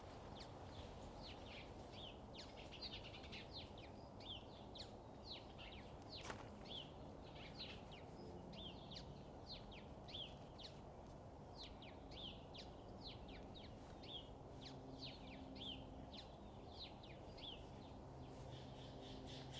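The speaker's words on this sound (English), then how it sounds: "Aren't the birds just lovely in this?" Faint birds chirp repeatedly in the distance against a soft, steady outdoor hum, their short calls scattered throughout.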